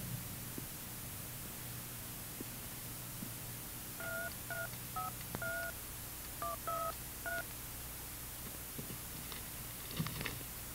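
Cellphone keypad tones beep in short paired bursts, about a dozen quick presses in uneven groups, faint and steady over a constant hiss of background noise, with no voices.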